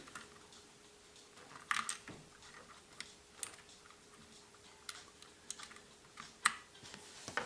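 Keys on a Magegee mechanical keyboard are typed in a sparse, uneven run of soft clicks, close up and fairly quiet, with a few sharper strikes standing out and no talking.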